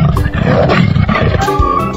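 A tiger roars in a children's animal-learning animation, a loud, gravelly and sustained growling roar lasting about two seconds with slight pulses in its strength.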